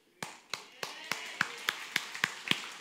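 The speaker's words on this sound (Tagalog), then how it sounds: "Alam ko kung saan kayo pumalakpak." An audience claps in slow, evenly spaced single beats, about ten sharp claps over a few seconds, moderately close and alone with no talk over them.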